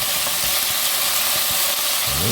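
Small veal pieces sizzle in a pot while being stirred for a blanquette de veau, a loud, close, continuous frying hiss with faint scraping.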